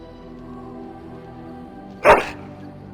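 A dog gives a single sharp, loud bark in the fantasy role-playing game Dragon Age: Origins, rising alone over a low, steady musical backdrop.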